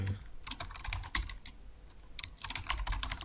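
Fast key presses on a computer keyboard as a copy-paste shortcut is typed, a steady run of crisp clicks with a brief pause in the middle, close and alone.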